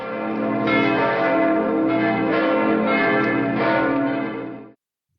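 Many church bells, between three and eight, swinging and pealing together in a wedding peal, a dense, continuous clangor, loud and close, then stopping abruptly near the end.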